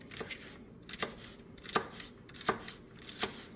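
A knife dices half a stalk of celery very finely on a cutting board, with crisp chops coming in a steady rhythm of about five to six distinct strikes, close and alone.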